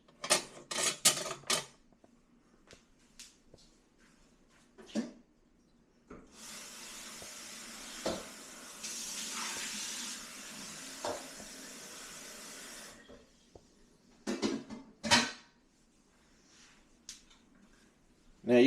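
A pan of creamy chicken with honey and tomato sizzles and hisses steadily in the middle stretch, with sharp clinks and scrapes of stirring before and after, fairly quiet overall.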